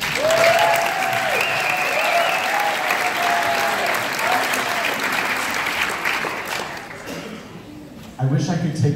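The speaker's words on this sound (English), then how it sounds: "So please join me in giving them one more round of applause." Audience applause for students at an awards and recognition performance night: sustained loud clapping with whistles over it, thinning out after several seconds before a voice begins speaking near the end.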